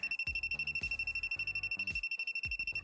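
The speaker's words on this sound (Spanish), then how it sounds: "Cuanto más cerca estemos de una fuente con tensión, más barras aparecerán y más rápidos serán los pitidos." A handheld voltage detector held near a live power source gives a rapid, steady train of short electronic beeps over a constant high tone, close and fairly quiet.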